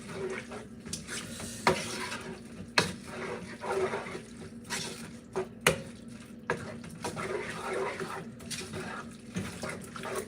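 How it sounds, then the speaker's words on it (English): Taco meat with seasoning and water being stirred in a pan, giving a steady wet simmering sizzle broken by scattered clinks and scrapes of the utensil against the pan. "get it stirred up real good, because we don't want it too wet, too liquidy"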